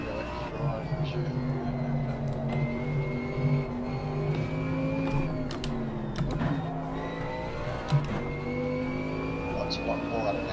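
A GT3 race car laps Monza in the racing game Assetto Corsa Competizione in light rain, its engine droning steadily and whining up and down through gear changes, with faint clicks and a low voice underneath.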